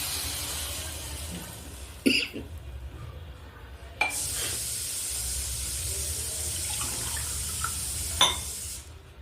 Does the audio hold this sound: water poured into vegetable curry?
yes